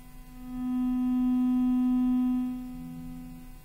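An Oclean Air 2 sonic electric toothbrush hums with a steady, smooth buzzing tone that swells for about two seconds, then fades back down. It is fairly quiet.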